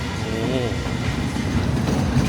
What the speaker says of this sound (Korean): 이런 식으로 이렇게 상어 모양을 한 롤러코스터가 이렇게 움직이는데